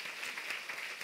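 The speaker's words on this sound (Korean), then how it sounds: "우리 큰 박수로 우리 환영해 주시고 격려해 주시겠습니다." Church congregation during a Sunday worship service clapping to welcome back a member, a brief, faint, even patter of many hands.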